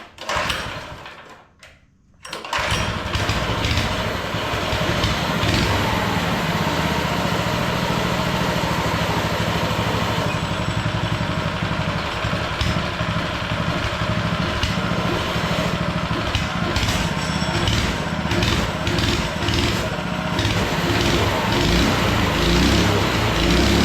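Small minibike engine running at a slightly raised idle, a steady near rattling putter that kicks in after a short quiet start and holds for about twenty seconds, with minor fluctuations and no voices.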